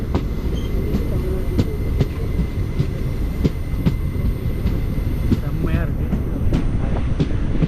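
Passenger train on the Guruvayur to Tenkasi line near Thenmala, heard from inside the carriage: a loud, continuous low rumble of wheels on rails with regular rhythmic clacks at the joints and brief squealing.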